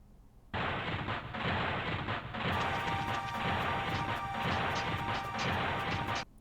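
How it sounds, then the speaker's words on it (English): A rumbling, crashing earth-moving effect from the Earth crest in a video game, loud and continuous for several seconds with grinding rumble and repeated thuds, joined partway through by a high, bright ringing pulse layered on top. "The Earth crest is making the entire time this like earth moving sound."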